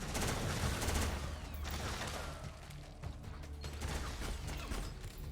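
Gunshots in Metal Gear Solid 4 mixed with mechanical clanks and creaks, a dense, steady wash of firing and rattling action sounds at moderate loudness.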